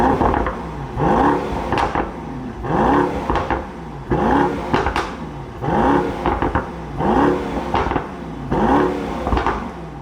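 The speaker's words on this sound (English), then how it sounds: "How incredible does this car sound?" A 2019 Mercedes-AMG GT63S 4-door in race mode revs hard in repeated loud, evenly spaced bursts, each rising sharply and dropping back between blips, close and unaccompanied.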